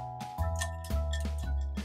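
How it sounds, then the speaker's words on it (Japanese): Ice cubes clink and knock in a bowl of ice water used to chill cooked udon, a few bright, separate taps that ring briefly against a quiet kitchen background. "こういう氷の音とかね、すごくいいですよね。"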